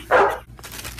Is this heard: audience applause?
no